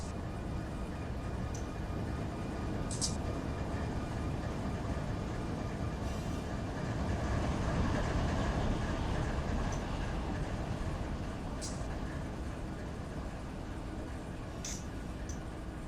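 A freight train in the game Run 8 Train Simulator rolls along with a steady low rumble and wheel drone, continuous and fairly loud. A few faint clanks rise above it.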